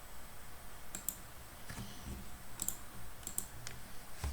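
A computer mouse clicks quietly during Civil 3D design work, with a handful of short, crisp clicks spaced irregularly over a faint background hiss.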